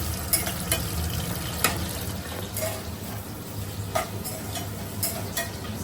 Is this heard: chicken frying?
yes